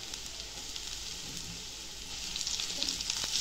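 Chopped onion and tomato frying in a pan for homemade Maggi, giving a steady close hiss of sizzling oil that swells a little louder toward the end, with no one talking.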